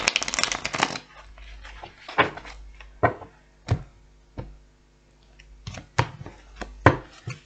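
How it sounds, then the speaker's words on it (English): Tarot cards being shuffled close by, a long riffle at the start followed by a series of sharp, separate snaps and taps at uneven intervals. "One more shuffle"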